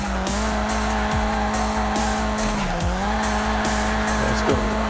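Tires squeal loudly and continuously as a car drifts through turns in a racing video game, the engine note rising and falling beneath the shrieking skid.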